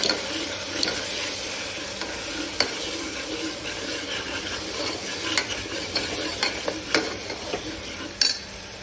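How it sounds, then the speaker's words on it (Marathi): Homemade masala and turmeric frying in a pan, a continuous close sizzle broken by sharp scrapes and taps of a spoon stirring, with no voices. "याला पण चांगलं तळून घेऊ आपण."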